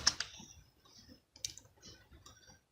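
Hindi text typed in Mangal font on a computer keyboard: a few quiet, close key clicks, a sharp pair at the start, then scattered softer taps before fading out.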